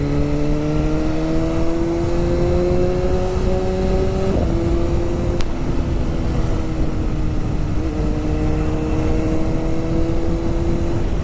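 A 2025 BMW S1000RR Pro superbike engine revving, its tone climbing through steady rising pitches with a sharp break midway, a brief crack like an exhaust pop, then settling into a loud continuous drone.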